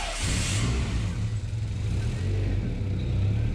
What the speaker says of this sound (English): Let's start the car. Let it run for a bit.